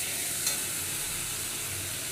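Asafoetida and green chilies fry in hot oil with a steady, dense sizzle that stays even and close throughout, with no talking.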